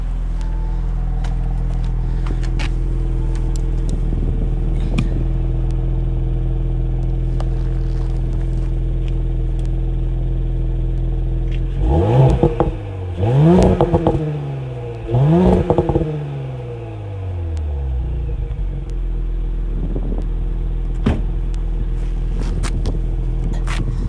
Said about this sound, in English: you get to hear the noise of this engine. It's a really nice sounding car with the turbo system now